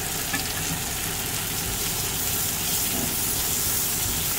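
Garlic and onion sizzle steadily in a hot pan for chicken in cream sauce, a loud, continuous frying hiss with no pauses and no voices.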